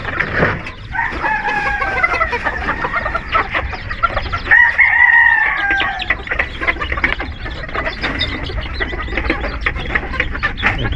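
Backyard chickens and a rooster at feeding time, with steady clucking and a couple of drawn-out crows over an ongoing background of farmyard fowl calls, fairly close and with no talking.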